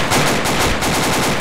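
Rapid automatic gunfire rattles in a loud, close, unbroken burst of shots.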